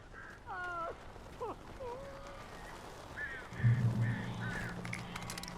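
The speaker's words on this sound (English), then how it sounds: "Wow, this place is surrounded by a murder of crows" Crows cawing in the video game Alan Wake Remastered, several harsh calls scattered across the clip at moderate distance, over a low ambient rumble.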